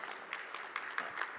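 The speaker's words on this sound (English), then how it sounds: "let's give a round of applause" A small audience at an ICPC educational talk claps together, a brief, faint patter of applause heard from a distance with no voices over it.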